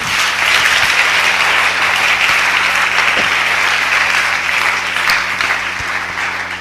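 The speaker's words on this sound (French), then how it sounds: "Est-ce qu'on peut acclamer le Seigneur?" Church congregation at a closing Sunday worship service applauding and acclaiming the Lord, a dense, steady wash of many hands clapping at close range, sustained without pause and with no voices standing out.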